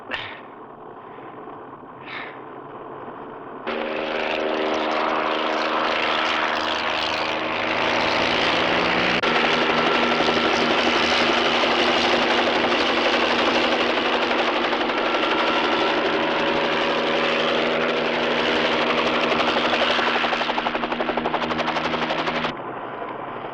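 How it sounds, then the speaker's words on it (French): A loud police helicopter roars overhead, its rotor chopping steadily and engine droning for a long stretch before cutting off. "Hélicoptère de la police!"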